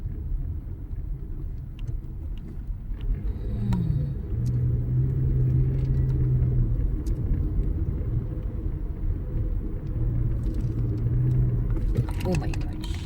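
Road traffic in a jam: a steady low engine rumble from cars idling close by, with a faint horn-like tone twice and occasional small noises.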